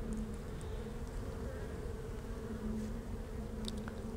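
Honeybees buzzing steadily at the open hive during an inspection, a soft continuous drone with the odd louder bee passing close, no talk.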